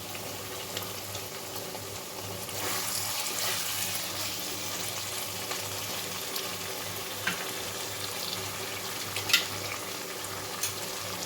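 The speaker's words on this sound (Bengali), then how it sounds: "পটলগুলোর সঙ্গে একটু ভালো করে মশলা কষিয়ে নেবো আমি।" Spices and pointed gourd (potol) fry in a pan, with a continuous sizzle, occasional stirring scrapes and clinks close by.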